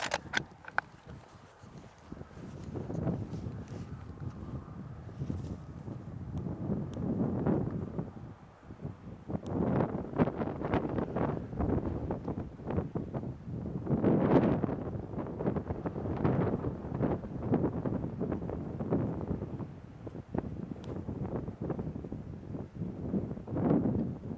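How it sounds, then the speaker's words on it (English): Wind gusts at an outdoor rifle range buffet the microphone, a low rumbling roar that rises and falls in waves and runs throughout without voices. "A little bit of wind factor maybe. It was blowing pretty good."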